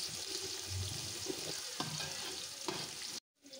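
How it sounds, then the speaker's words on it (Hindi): Diced carrots sizzling steadily in a pan with browned cumin, a close, even frying hiss with a few stirring clinks, cutting off abruptly at the end. "अभी हम इसमें ऐड करके गाजर को हल्का सा फ्राई करेंगे"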